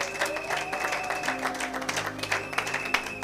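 A church congregation clapping together in rhythmic, sustained applause, a dense crowd sound with steady hand claps running under faint organ-like tones.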